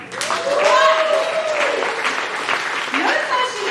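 A comedy club audience claps and cheers in a short burst during a live stand-up show, with voices shouting over the applause.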